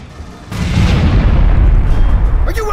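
A loud, close grenade explosion erupts in the sci-fi shooter game Aliens: Colonial Marines aboard a dropship, a deep sustained boom rumbling for a couple of seconds before fading.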